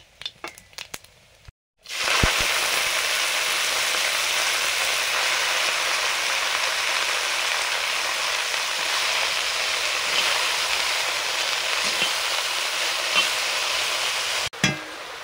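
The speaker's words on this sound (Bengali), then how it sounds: "শাক ভাজা করব" Greens sizzle and fry hard in hot oil with dried red chilli and black cumin, a loud, steady crackle that erupts after a brief quiet start and runs almost unbroken, with no talking.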